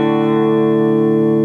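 Electric guitar run through a Boss Blue Comp compressor pedal with the sustain turned way down, ringing as one steady held chord that barely fades, evenly loud and alone.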